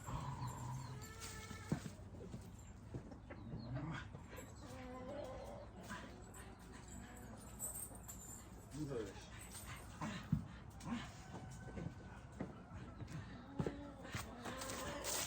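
An upset dog whimpers, yips and barks in scattered bursts over about fifteen seconds, fairly faint and mid-distance, with a person talking at times in the background.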